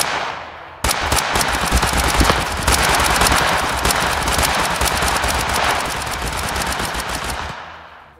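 Dense automatic gunfire in Totally Accurate Battle Simulator, with rapid overlapping shots from many weapons rattling continuously and loudly for several seconds, starting abruptly and tapering off at the end.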